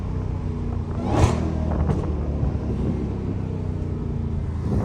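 Loud Dodge Hellcat engine roaring continuously while the car slides around corners, with a sharper revving surge near the start and steady low rumble throughout, no talk.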